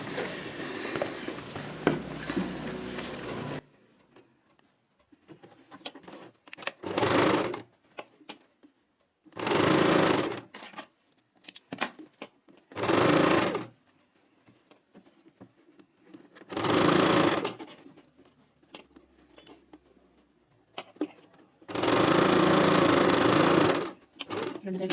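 A sewing machine stitches blouse pieces together in five separate bursts of steady, close whirring. Talk comes at the start and in the quiet gaps between the runs.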